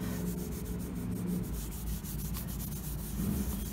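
Steady dry rubbing of pencil shading being smoothed over drawing paper, a continuous soft scratchy friction with a faint repeating back-and-forth pulse, close up and alone, with no talking.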